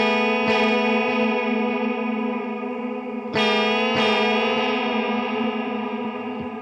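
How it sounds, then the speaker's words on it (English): Electric guitar chords through an M-Vave Blackbox pedal set to vibrato, two strummed chords ringing out loud with a wavering, warbling pitch and shimmering sustain, alone with no talking. "What if I turn it to vibrato?"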